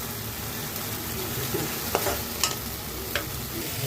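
Fish curry gravy simmering down in a pan, a steady close sizzle with a few sharp stirring clinks against the pan, no voices.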